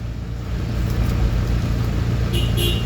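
Road traffic on the way to Pampanga rumbles steadily, with low engine drone from cars and larger vehicles close by and a couple of faint high squeals near the end, without talk.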